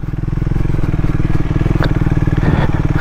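A Triumph Speed 400 motorcycle rides off-road through muddy ground, its engine thumping in a loud, steady, rapid pulse close by, with brief clattering and rattles from the terrain mixed in.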